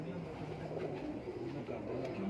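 A champion breeder racing pigeon gives soft, low cooing phrases close by, set against a murmur of background noise and faint voices.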